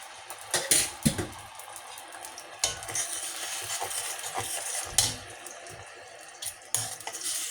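A paste of onion, tomato and green chili hits hot oil and is stirred for a Bengali mustard fish curry: a steady sizzle with scraping clinks of a spoon against the pan, up close.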